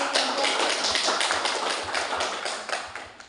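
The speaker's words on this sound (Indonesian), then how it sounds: "Kita berikan aplaus." An audience applauds after a group presentation, a dense and steady wash of many hands clapping together that carries on throughout and eases off slightly toward the end.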